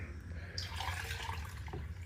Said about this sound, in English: get rid of some of the water in this pan.